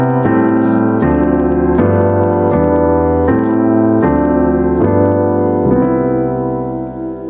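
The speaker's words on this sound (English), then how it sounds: "All right, so rhythm changes looks and sounds like this." Jazz piano plays a rhythm changes chord progression, a series of sustained chords struck about every 0.7 seconds in a steady pulse, loud and close with no voice over it.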